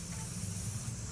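Black Magic engine degreaser spraying from an aerosol can onto a car engine, a brief, steady, close hiss with no talking.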